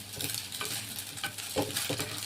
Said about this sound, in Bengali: একটা সুন্দর গন্ধ বেরোচ্ছে যে নারকেল ভাজা